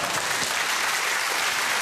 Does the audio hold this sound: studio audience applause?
yes